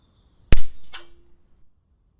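A PCP air rifle fires once at a metal target 55 yards away: a sharp close crack, then a second metallic impact ping with a brief ringing tone, in otherwise quiet surroundings.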